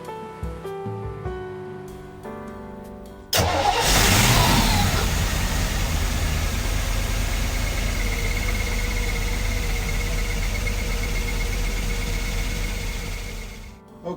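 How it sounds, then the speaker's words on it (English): A generator engine, not run for a while and with a dry fuel line, catches abruptly after a short quiet lead-in, then settles into a steady, loud, low running drone that continues to the end. "Okay, so I just started this engine."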